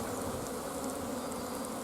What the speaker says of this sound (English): you can see there's quite a few bees there